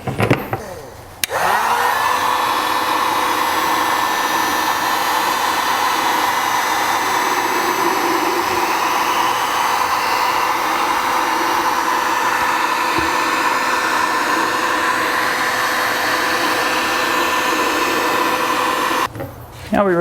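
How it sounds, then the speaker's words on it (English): A heat gun blows steadily around the perimeter of a Jeep Grand Cherokee tail lamp during a repair kit fitting, a loud close continuous whooshing whine that starts and cuts off after nearly twenty seconds. "we're going to go around the perimeter one more time with the heat gun"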